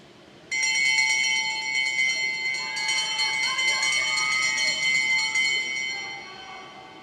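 Bell rung at a track cycling velodrome to mark the final lap of a junior race, a sustained bright ringing that begins suddenly and carries on for several seconds over crowd noise and commentary.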